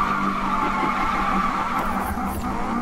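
A front-wheel-drive Acura RSX-R drifts in Need for Speed 2015, its tires squealing and skidding continuously over a loud, steady engine roar with a brief higher screech near the end.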